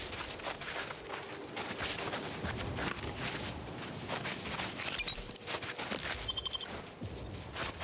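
Charged weapon shots in The Outer Worlds 2, a busy string of sharp gunfire bursts and clattering impacts over a dense combat din, with a quick rhythmic volley near the end.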